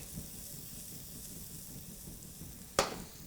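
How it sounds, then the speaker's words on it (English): Green onions and green chilies saute in butter in a pan, making a faint, steady sizzle with one sharp clatter near the end. "you saute these in that pan with a little bit of butter along with those green chilies"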